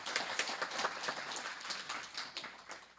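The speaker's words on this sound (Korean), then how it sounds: "박수 부탁드리겠습니다" Faint applause from a crowd at a political talk event, a brief patter of scattered clapping that gradually thins out over a few seconds, heard from a distance.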